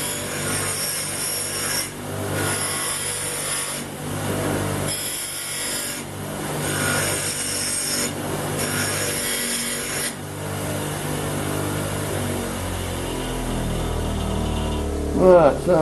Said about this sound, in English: we'll also clean a bit of the rust off because we're going to be tack welding it